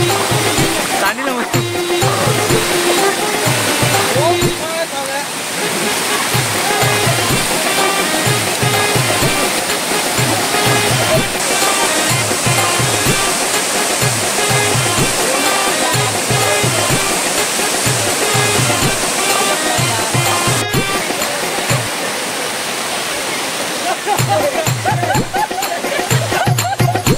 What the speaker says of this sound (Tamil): இந்த ஃபால்ஸோட சவுண்டில் கேட்குமா தெரியல